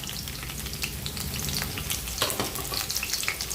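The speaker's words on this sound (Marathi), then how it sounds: "आता लसूण आपली थोडी चांगली भाजी द्यायची" Seven or eight garlic cloves fry in hot oil for a Malvani horse-gram pithi dish, giving a dense, continuous close sizzle with crisp popping throughout and no talking.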